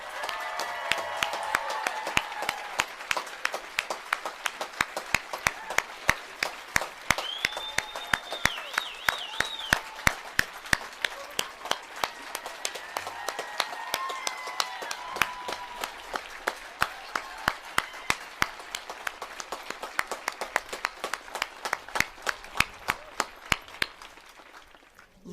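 Sustained applause from an audience at a 2023 girls' school graduation ceremony for the graduating class, dense steady clapping throughout with a few faint voices and whistles mixed in.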